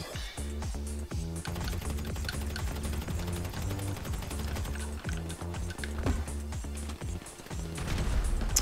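Rapid gunfire in a GTA V Online heist shootout, dense bursts of sharp cracks and rattling shots running throughout at moderate distance.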